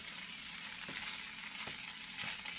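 Rice being stirred in a big pan, a steady granular scraping and sizzling hiss with a few soft knocks of the spoon against the pan, close and continuous.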